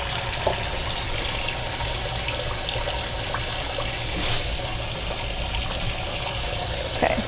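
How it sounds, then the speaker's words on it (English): Eggs being washed in water, with a steady close wash of running, splashing water and small trickles throughout, no talk. "You just put your eggs in water and cover the eggs completely with water,"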